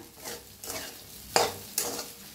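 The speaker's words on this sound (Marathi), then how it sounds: "आता मिक्स करून भाजून घेऊया।" Sabudana khichdi is stirred and roasted in a pan with green chillies, a quiet sizzle broken by several scraping strokes of a spoon against the pan, with no one speaking.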